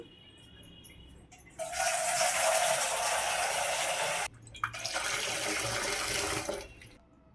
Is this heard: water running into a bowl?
yes